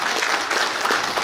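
Loud, dense applause from delegates at a regular union branch delegates' meeting in Gyeongju, honoring an outgoing audit committee member; continuous close clapping filling the short moment.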